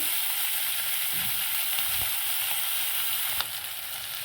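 Ginger and green chilli roasting gently in a pan over low gas, giving a steady, even sizzle with a few faint stirring taps, no voices.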